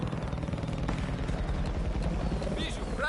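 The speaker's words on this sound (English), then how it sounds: "You need to just stop using those helicopters, bro." A helicopter in a combat video game gives a steady, loud rotor thump and engine roar that fills the clip, with faint gunfire and game effects mixed in.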